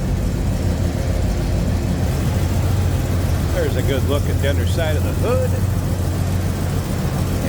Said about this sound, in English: Rumble coming out of those Flowmasters in that 455.